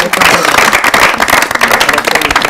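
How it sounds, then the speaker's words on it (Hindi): A studio audience at an Urdu quiz programme claps loudly and continuously, a close, dense patter of many hands that holds at full strength throughout. "इनके लिए ताली बजाइए सबके लिए"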